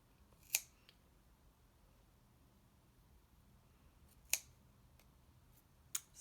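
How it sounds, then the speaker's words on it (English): Scissors snip pom pom eyes off a Loome emoji pom pom craft, three sharp, quiet clicks spaced apart in a near-silent room. "go in with the tip of your scissors, cut that off."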